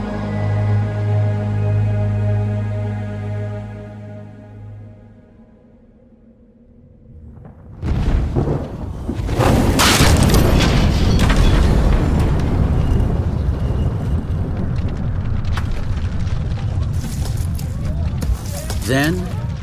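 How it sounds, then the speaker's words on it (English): A sustained musical chord fades, then a loud, deep earthquake rumble erupts and continues with crashing, cracking debris and splitting rock, close and powerful. "And the earth quaked, and the rocks were split"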